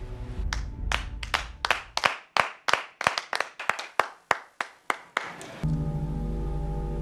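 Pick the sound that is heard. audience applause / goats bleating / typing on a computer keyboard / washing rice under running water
audience applause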